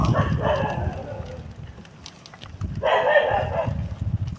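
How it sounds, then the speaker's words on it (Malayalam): A dog barks in two rough bursts nearby, separated by a short pause, over outdoor background noise. "പട്ടി"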